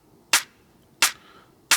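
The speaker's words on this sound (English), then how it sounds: "It's a nice layered clap." Three sharp, bright clap hits ring out in an evenly spaced pattern with near-silence between them, a layered clap sample bounced out alone from a music track's drum section.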